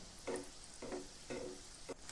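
Egg devils frying in hot oil over a lowered gas flame, with bursts of bubbling sizzle surging and easing in a loose repeating rhythm, close and moderately loud, no talk.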